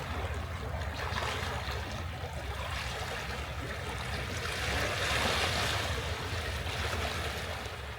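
Ocean waves surge and wash in steadily along the Dallas Road waterfront on a windy day, a continuous loud broadband roar of surf with no voices, swelling slightly toward the middle.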